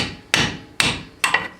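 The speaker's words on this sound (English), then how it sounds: "so I'm using my welding hammer." Three sharp metal strikes from a welding hammer on the front hub of a Ford Ranger truck, spaced about half a second apart, close and clear with short ringing decays.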